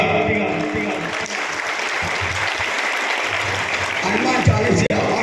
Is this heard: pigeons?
no